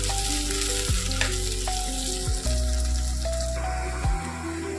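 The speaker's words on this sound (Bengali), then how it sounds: "এবার কুচনো পেঁয়াজটা নরম হবে, একটু লাল লাল করে ভাজা হবে" Chopped onion frying in oil in a pan for mutton curry, a steady close sizzle with occasional stirring scrapes and no voices.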